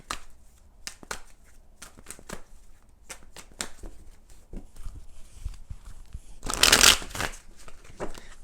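A tarot deck is shuffled in a series of crisp riffles and taps, with a louder, fuller burst of card flutter near the end, close and otherwise quiet.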